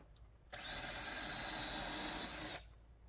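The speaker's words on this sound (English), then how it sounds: "I'll just probably just screw it right, or drill it right in place." A power drill driving a screw into deck wood runs in one steady, close whir for about two seconds, starting and stopping abruptly, with quiet surroundings on either side.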